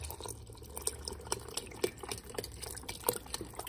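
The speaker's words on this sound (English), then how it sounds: "I'm going to add in a large package of beef stock" Beef stock from a 32-ounce package pours into a pot of stuffed pepper soup, giving a steady close liquid splash and trickle with small drips throughout.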